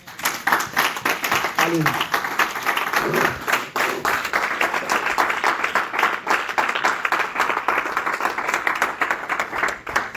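A church congregation claps and applauds steadily throughout, a dense continuous patter of hands, with a voice briefly calling out over it near the start.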